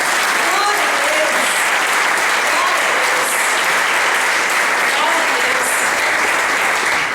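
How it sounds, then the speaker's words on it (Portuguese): A church congregation applauds during a worship service, sustained and loud throughout, with voices heard over the clapping. "Dê um aplauso a Jesus."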